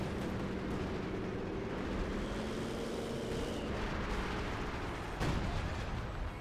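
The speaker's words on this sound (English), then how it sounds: "Artillery running into the Soviet base." Artillery fire in Company of Heroes 2 as shells rain on a Soviet base, a dense rumbling barrage with a sharper burst near the end, moderately loud and distant under steady battlefield noise.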